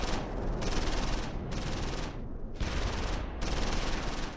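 Sustained, dense gunfire in the WWII tactical video game Close Combat IV, a loud continuous fusillade of rifle and machine-gun rounds with brief lulls between bursts, heard alone without talk.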